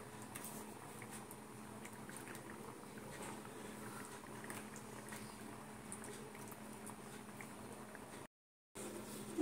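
Curry gravy with pointed gourds (potol dolma) simmers in a pan, giving a soft, steady bubbling that stays faint and continuous apart from a brief dropout near the end.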